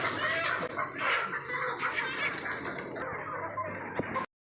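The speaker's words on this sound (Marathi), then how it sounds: "बॉयलर कोंबडा." Broiler chickens at a village poultry unit, clucking and chattering steadily at close range through a noisy coop ambience before the sound cuts off abruptly.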